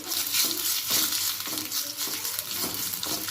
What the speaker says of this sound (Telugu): ఎండుమిరపకాయలు కూడా వేసి బాగా వేయించుకోవాలండి